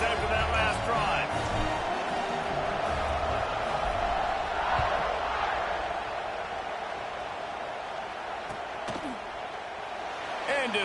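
A packed football stadium crowd in Indiana roars steadily at a kickoff, a dense, sustained wash of cheering and shouting with occasional sharper bangs and slaps standing out near the end.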